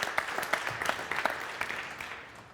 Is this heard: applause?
yes